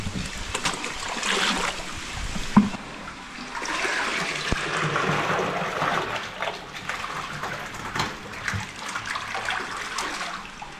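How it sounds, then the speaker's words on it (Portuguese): Water is poured into a container holding veil-tail carp taken from a reservoir, a continuous splashing, gushing rush that swells and eases over about eleven seconds with a few sharper knocks. "Bota um pouquinho de água aqui."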